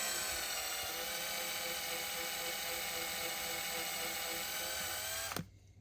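A small high-pitched drill whines steadily and loudly for several seconds while boring into a Hot Wheels toy car at low RPM, then cuts off abruptly near the end.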